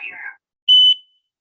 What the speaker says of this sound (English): So this smoke alarm sounded two different alarms.